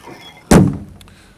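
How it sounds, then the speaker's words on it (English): The tailgate of a Land Rover 90 2.5TD hardtop shuts with a single solid metallic thunk and a brief rattling decay, close and loud against a quiet background. "Tailgate closes well enough."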